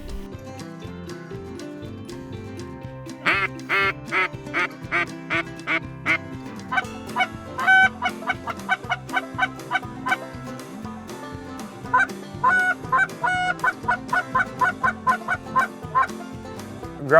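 Ducks and geese call during a Delaware waterfowl hunt, bursts of rapid quacks and honks coming in repeated clusters over a low steady background, some calls sharper and closer than others, no talk.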